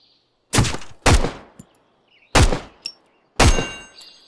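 Enemy gunfire in the video game Road to Vostok: four loud, sharp gunshots at irregular intervals, each with a short decaying tail, plus a couple of fainter distant pops between them, against near silence.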